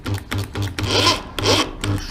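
A countersink bit cutting deep recesses for screw holes in wood gives close, rhythmic rasping and rubbing strokes in quick succession, with a few longer grinding passes, and no voices.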